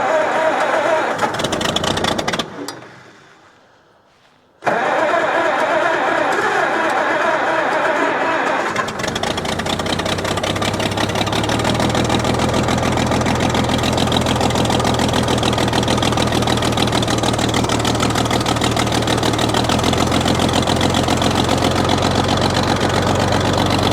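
A 1937 Oliver Hart-Parr 70 tractor engine cranks briefly, falls quiet for a moment, then catches and settles into a loud, steady running idle with a low, continuous throb that holds to the end.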